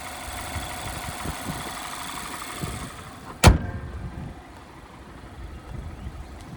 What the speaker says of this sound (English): But there's that 2-liter Skyactiv 4-cylinder.